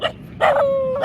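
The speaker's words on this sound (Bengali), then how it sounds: "এখানে বেশ কিছু কুকুর ডাকছে।" A dog on a coastal beach in Odisha near Digha gives a short yelp, then a longer high whining bark, close and loud with nothing else around it.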